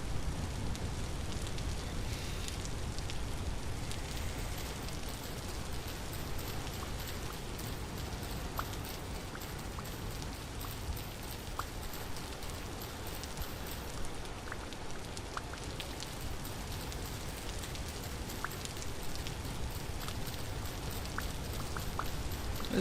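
Steady rainfall in the Vintage Story video game, a soft continuous patter of drops on surfaces with occasional brighter ticks, even and unbroken with no voices.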